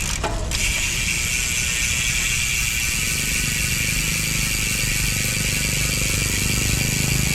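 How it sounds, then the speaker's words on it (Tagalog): An SRAM X9 mountain bike rear hub with a three-pawl freehub body and sealed bearings freewheels, giving a steady, rapid, close ratcheting buzz that runs unbroken from start to finish. "Yan guys, yung tunog ng SRAM X9 MTB hub kapag naka-free wheel."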